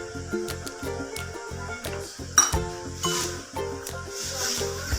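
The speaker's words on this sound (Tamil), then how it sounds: "அதை தண்ணி ஊற்றி நல்லா கரைச்சி வச்சுக்கலாம்." A spoon clinks and scrapes steadily around a bowl as 1.5 spoons of cornflour are stirred into water for a kulfi recipe, the rhythmic stirring close and continuous with a few sharper clinks.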